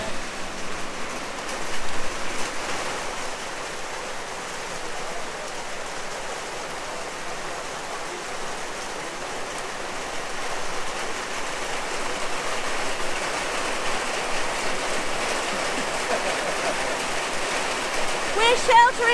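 Steady heavy rain pours down on a tropical island off Lombok, a dense continuous hiss of drops hitting surfaces that holds at an even, fairly loud level for the whole stretch, with no voices cutting through.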